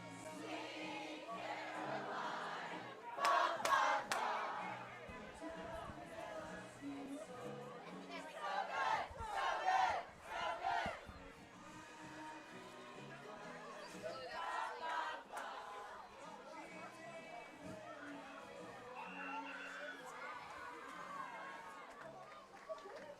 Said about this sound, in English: Now listen to that crowd.